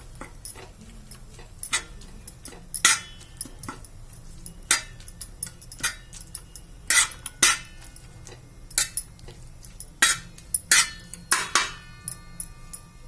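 A spoon stirs pav bhaji masala into a pan of Bombay pav bhaji, making sharp, irregular metal clinks and scrapes at close range over a quiet background, with no talking.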